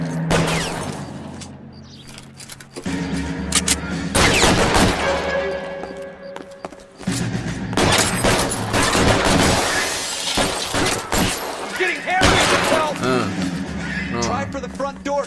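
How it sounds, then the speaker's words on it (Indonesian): Shotgun blasts in L.A. Noire during a police raid, several loud sharp reports spread through a busy, noisy firefight with other game sounds and voices around them. "Kita pakai shotgun nih."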